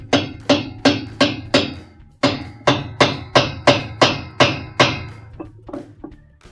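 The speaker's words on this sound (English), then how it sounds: "we'll grab our wrench and tighten it clockwise" A wrench tightens the bolt on a washing machine agitator drive block, giving about a dozen sharp, evenly spaced metallic clicks in two quick runs. The clicks are close up, with no talking.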